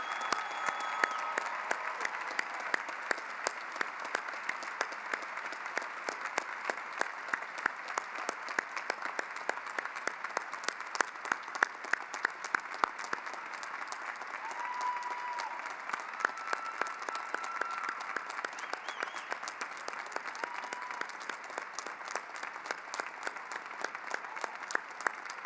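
An audience applauds at a fall commencement ceremony honoring military veteran graduates, a steady, dense clapping that stays loud and even throughout with no break.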